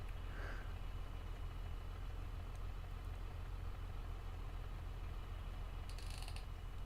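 Tractor engine idling in Farming Simulator 22: a steady low mechanical rumble runs unbroken throughout, with a few faint higher clicks and a brief metallic rattle near the end.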